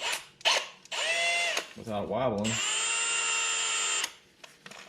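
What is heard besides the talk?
power drill running while drilling Camaro brake part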